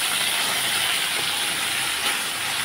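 Fish fry in hot oil with a loud, continuous broadband hiss and crackle that stays steady throughout.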